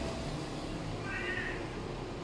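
A cat gives a brief, faint meow, half buried in a steady hiss of background noise.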